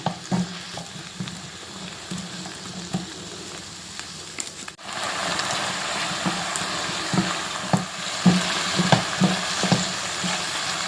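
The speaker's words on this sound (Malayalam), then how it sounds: "ഇതിനൊപ്പം തക്കാളിയും ഉള്ളിയും ചേർത്ത് ഉപ്പും ചേർത്ത് വഴറ്റിയെടുക്കാം ഇത് കുറച്ച് നന്നായി വഴന്നു വരണം" Tomato, onion and salt sauté in a pan for tomato chutney. There is a continuous crackling sizzle with scraping stirs, and the sizzle swells louder midway through.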